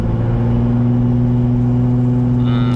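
Lexus IS 250 engine fitted with a ported intake manifold, driven under aggressive throttle: a loud, steady mid-pitched engine drone with strong low hum from inside the car, holding even throughout with no talk.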